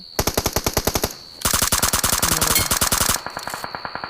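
Video game gunfire crackles in rapid automatic bursts: a short burst, a brief pause, then a long sustained volley, followed by lighter trailing shots, loud and close.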